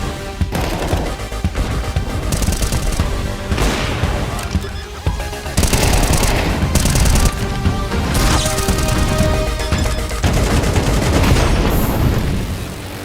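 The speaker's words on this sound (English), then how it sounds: "Counter-Strike is known for its visceral and satisfying gunplay." Weapon fire in Counter-Strike 2: loud, dense bursts of automatic shots and crashing impacts fill the whole stretch, with a narrator talking over parts of it.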